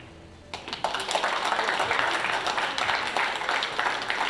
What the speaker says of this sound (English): And a well-deserved round of applause from the crowd.